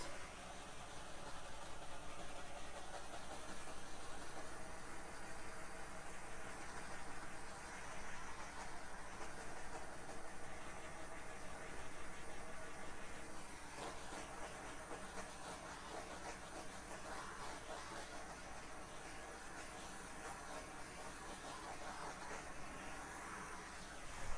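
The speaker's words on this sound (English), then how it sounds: "I can give it a torch while it's spinning even" A torch flame plays over a spinning acrylic pour painting, producing a continuous, even roar mixed with a steady mechanical hum from the spinner that lasts the whole time, with no talk.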